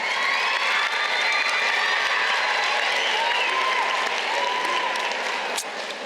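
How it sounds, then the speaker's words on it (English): A graduation ceremony crowd gives a sustained round of applause for parents and supporters, thick continuous clapping with scattered cheers and a brief whistle near the end, loud and enveloping throughout. "A round of applause for the people that have supported us this far."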